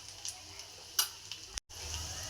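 Cumin, crushed garlic and curry leaves crackle in hot oil for a spinach palya, a close, continuous sizzle with scattered sharp pops and a brief clink partway through.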